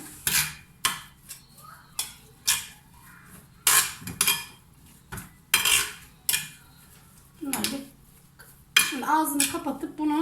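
A spoon clinks and scrapes around a bowl while semolina and salt are stirred, giving sharp repeated metallic taps in irregular bursts, close up, with brief faint voice at the end.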